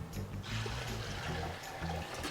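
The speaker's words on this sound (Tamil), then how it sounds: "தேவைக்கேற்ப தண்ணி ஊற்றிக்கலாம்" Water pours into a pan of ground tomato for Chennakuni (dried shrimp) rasam with a steady splashing gurgle for a couple of seconds, close and unaccompanied.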